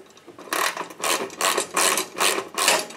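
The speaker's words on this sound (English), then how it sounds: "Go ahead and put one of the thumb screws in here." A 12 millimeter thumb screw is driven into the mount of a NewAir G73 240 volt garage space heater. Close, sharp ratcheting bursts repeat about six times at a steady rhythm, with brief gaps between them.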